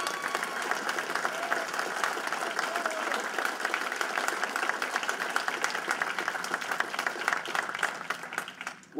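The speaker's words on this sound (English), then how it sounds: "he deserves a big round of applause for that" Audience applause at an award presentation, a sustained dense clapping from a sizable crowd that stays even and loud before tapering slightly at the end.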